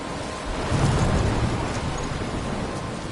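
Thunderstorm with steady rain in the video game Life is Strange, a dense continuous wash of rainfall with a low rumbling swell of thunder peaking near the start, loud and unbroken throughout.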